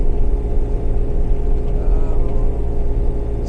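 A 2014 Bobcat Toolcat's engine idles at a steady, loud low rumble as the machine pushes through a snow drift, with a continuous droning hum and no speech.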